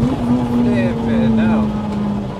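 A loud, sustained engine drone from a 450 bhp Rotrex-supercharged EP3 Honda Civic Type R, with a rising supercharger whine layered on top, rolling steadily throughout.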